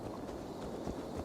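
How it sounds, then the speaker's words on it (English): Horse hooves clip-clop at a steady walking pace in the video game Assassin's Creed Valhalla, soft and muffled over a low ambient background. "Let's return the horse."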